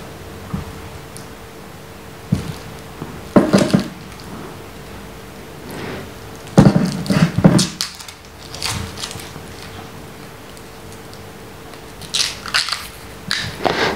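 Plastic protective film peeled off the band and case of a Garmin Fenix 3 Sapphire Edition watch, giving a few separate bursts of crinkly tearing and crackling close by, with quiet pauses between them.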